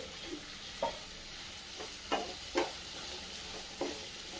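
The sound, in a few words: diced potato sautéing with onion and tomato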